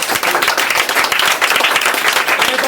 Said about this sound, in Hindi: या जोरदार ताली बजाओ पहले।